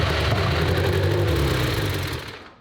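An IndyCar engine idles at a steady speed, a loud, rough, low mechanical drone heard up close that tapers off in the final moments.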